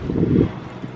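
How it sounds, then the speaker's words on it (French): Outdoor wind gusting on a breakfast terrace in Greece, moving a parasol: a loud low rumbling buffet in the first half, easing to a steadier, softer wind noise with no voices. "Il y a pas mal de vent ce matin, regardez comme le parasol il bouge."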